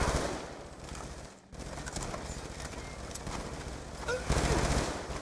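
Gunfire exchange in Call of Duty Black Ops 2, with bursts of automatic weapon fire and scattered shots over a steady battle din, rising louder toward the end.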